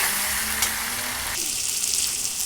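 Sliced onion and tomato sizzle loudly in hot oil for a wedding-style moong dal with catla fish head, a dense continuous crackle close by with light stirring and no talk.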